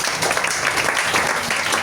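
A church congregation claps together in dense, sustained applause that stays fairly loud and steady for about two seconds.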